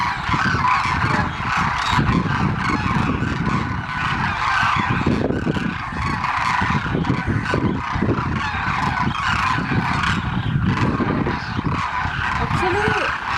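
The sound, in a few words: demoiselle cranes calling while feeding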